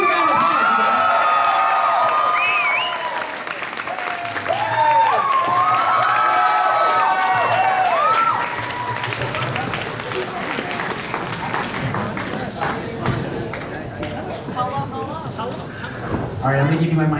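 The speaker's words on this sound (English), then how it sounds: "Give a round of applause, you guys." An audience at a live event applauds and cheers loudly, with whoops and shouts over dense clapping that eases off somewhat partway through, while voices are heard in the crowd.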